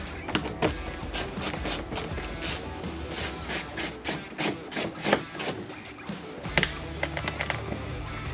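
A 7mm socket wrench loosens a bolt near a door panel on a trail rig, producing quick, regular ratcheting clicks, close and fairly quiet, with a short pause before the clicking resumes.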